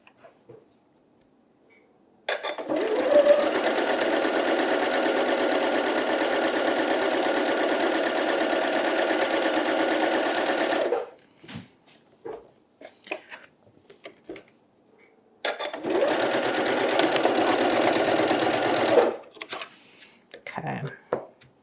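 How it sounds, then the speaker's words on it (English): A sewing machine stitches Tula Pink quilt fabric pieces together. Two loud, fast, rattling runs are heard, one of about nine seconds and a shorter one later, with quiet handling noises between them. "And then we're gonna sew these 2 together."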